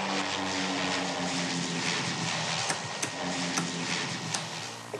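A propeller airplane drones steadily nearby as it comes in to land, engine hum constant with faint ticks and clicks over it.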